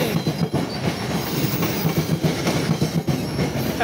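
Passenger trains KA Tawang Jaya and KA Papandayan pass at an Indonesian station, with a steady loud rumble and rhythmic clickety-clack of wheels over rail joints throughout, no talk.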